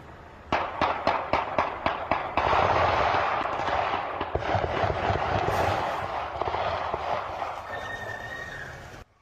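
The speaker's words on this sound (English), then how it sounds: "You can hear a barrage of bullets being fired." Gunfire on a city street near a park at night: a rapid string of sharp, evenly spaced shots, then a dense, sustained automatic-sounding barrage, loud and slightly distant, fading toward the end.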